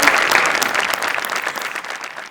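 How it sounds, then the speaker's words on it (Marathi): Audience applause at a Marathi comedy show, Maharashtrachi Hasya Jatra, during a Diwali episode: dense, steady clapping from a crowd that fills the whole stretch at an even level with no talk over it. "खूप टाळ्या वाजवून"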